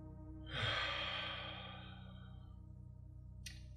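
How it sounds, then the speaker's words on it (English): A single slow, deep breath is exhaled through the mouth during a calm beginner yoga session, a soft close whoosh that swells and fades over about two seconds, followed by quiet. "exhale out the mouth"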